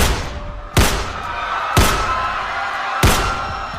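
Three sharp, loud gunshots ring out about a second apart at an airport where police have surrounded a man, each crack standing alone with a short decay.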